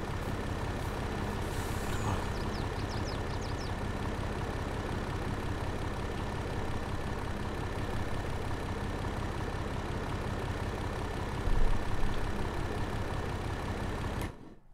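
Heavy vehicle engine in Farming Simulator 22, a loud, steady rattling drone with a deep low rumble that runs continuously for the whole stretch, a brief swell near the end before it cuts off.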